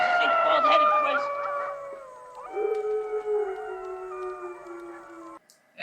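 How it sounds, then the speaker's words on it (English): Coyotes howling in a movie scene, several long wavering howls overlapping at moderate volume and trailing off, with a short sound at the end. "Actually, that might be coyotes."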